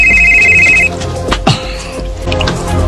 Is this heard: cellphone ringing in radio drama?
yes